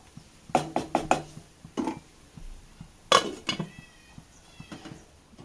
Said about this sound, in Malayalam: നല്ലപോലെ നമുക്ക് ഇളക്കി കൊടുത്തിട്ട് മൂടി വെച്ച് കൊടുക്കാം